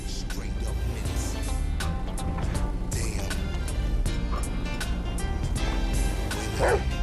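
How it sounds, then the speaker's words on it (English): A dog barks and yips in GTA V amid dense game sound, with a voice talking over it; several short yaps are scattered through the steady, busy mix. "Hey, I like your dog, homie."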